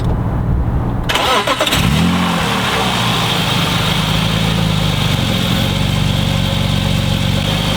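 A BMW E36 M3 engine with an aFe intake cranks and catches after about a second, then settles into a steady, loud cold idle that continues close by.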